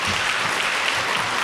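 A room full of people gives a brief, dense round of applause at a school gathering, even and sustained for a moment.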